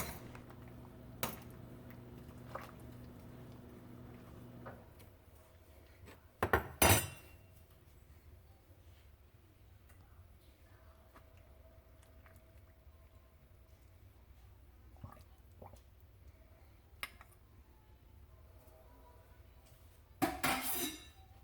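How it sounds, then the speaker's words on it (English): A lid settles onto a pot of soaking corn husks on a stovetop while making chicken tamales, giving a few sharp metallic clanks and clinks, with scattered quieter kitchen knocks in a mostly quiet room. "So now that I've covered it with a lid, I'm going to set my corn husks aside to the back burner"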